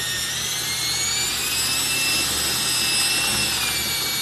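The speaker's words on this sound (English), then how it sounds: "I'm gonna use the drill." A power drill spins steadily while mixing epoxy, a continuous whirring hum with high whining tones and no pauses.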